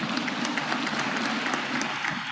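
Applause from an audience at a Nigerian presidential event, honoring the Police Officers' Wives Association, steady and dense clapping filling the room for a couple of seconds, moderately loud with no voices over it.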